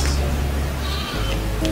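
A goat bleats loudly and close in a Nigerian drama scene, a short drawn-out cry filling the whole moment.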